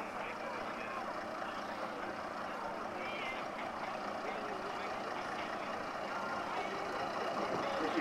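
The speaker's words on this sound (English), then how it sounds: "This is the little pickup in the livery of Bowers Scrap Metal Merchants." A 1956 Ford pickup truck drives past at a steam rally, its engine a faint, steady motor drone under general outdoor murmur and voices.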